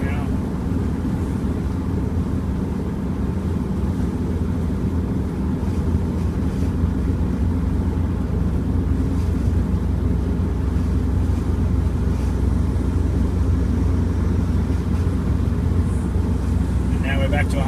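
Subaru EA82T turbo car with Megasquirt engine management coasting downhill off throttle, a steady low drone of engine and road noise with wind rumble, continuous throughout.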